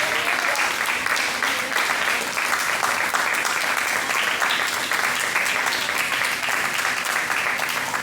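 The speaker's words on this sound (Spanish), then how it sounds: "dale un aplauso si quieres al Señor" Congregation applauding in a church, steady dense clapping from many hands sustained throughout at an even level, with faint voices mixed underneath.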